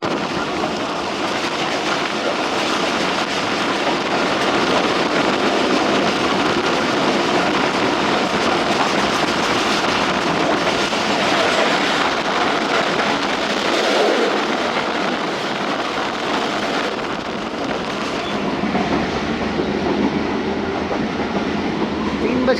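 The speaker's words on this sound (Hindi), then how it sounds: "ट्रेन शेरशाह पहुंच रही है, और जीपीएस पर 100 और 105 किलोमीटर की स्पीड शो हो रही है" The 47Up Rehman Baba express running at night at about 100–105 km/h, a steady loud roar of wheels on rails with rhythmic clatter and rushing wind sustained throughout, with faint talk in the background.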